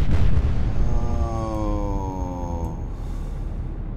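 Torpedo explosions in the Atlantic Fleet naval video game, a heavy low rumbling boom that opens loud and then decays slowly, with a brief descending tonal whine ringing over the fading blast.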